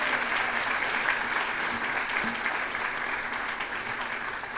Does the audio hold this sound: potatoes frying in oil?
no